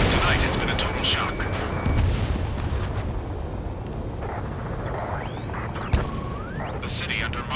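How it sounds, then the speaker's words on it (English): Heavy gunfire, booming blasts and roaring jets in a city under martial law in the Ace Combat 7 video game, a continuous loud barrage with sharp cracks and occasional sweeping engine whooshes. "gunfire and the roar of jets echoing through the streets"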